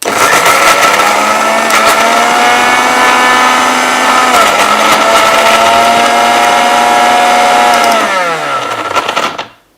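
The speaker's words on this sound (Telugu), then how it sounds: "మిక్సీ జార్ ఫిక్స్ చేసుకొని మిక్సీ పట్టండి" A loud electric mixer grinder whirs steadily as it blends vegetable pieces for juice, its pitch dipping briefly mid-run before it winds down and stops near the end.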